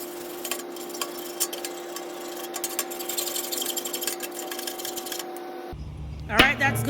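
A machete blade is sharpened with a steady series of scraping, rasping strokes over a constant background hum, before the rasping stops and a few sharp clatters and noises follow near the end.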